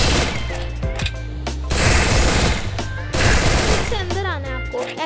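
Rapid MP40 submachine gun bursts in the Free Fire mobile game, loud, dense fire running almost continuously over a layer of game music and effects.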